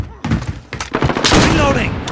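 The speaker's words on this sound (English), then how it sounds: "There, put it down. Changing mags." Magazine change in Call of Duty: Modern Warfare, a cluster of metallic clicks and thuds amid loud gunshots and shouted voices, busy and close.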